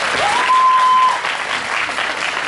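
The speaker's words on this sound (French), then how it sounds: "Vous pouvez encore l'applaudir, je peux pas, allez-y." An audience applauds in a continuous burst of clapping, with a brief high electronic tone sounding over it near the start.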